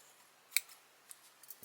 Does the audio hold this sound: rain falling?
no